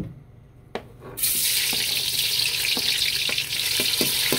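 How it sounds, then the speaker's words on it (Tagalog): Chopped onion hits hot oil in a pan for a sardine pochero, a sudden loud sizzle that holds steady and dense after a quiet start, with a few faint scrapes of stirring underneath. "Dito na rin tayo magigisa mga bossing. Unahin na natin ang sibuyas."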